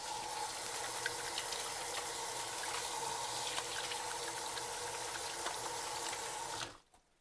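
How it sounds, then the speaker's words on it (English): Water runs steadily from a kitchen tap while hands are washed under it, a continuous close splashing hiss that holds at an even level before cutting off abruptly at the end. "let me wash my hands real quick"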